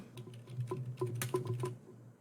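Quiet, close typing on a computer keyboard into an online text box, with soft irregular key taps in quick bursts and no voices.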